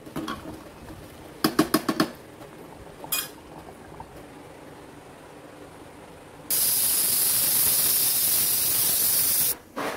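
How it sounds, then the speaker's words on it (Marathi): A pressure cooker lid is fitted and locked at home in a kitchen. Several quick metallic clicks and clacks come close together near the start, followed by a single clink, and then a long, loud steady hiss. "आता मी कुकरचं झाकण लावणार आहे आणि 6 शिट्ट्या काढून घेणार आहे"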